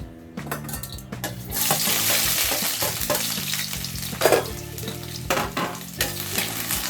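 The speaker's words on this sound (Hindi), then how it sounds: "तेल गरम हो गया है। अब हम डाल देते हैं लहसुन और अदरक" Garlic and ginger hit hot oil with a loud, sustained sizzle, punctuated by clinks and scrapes of a spoon stirring in the pan.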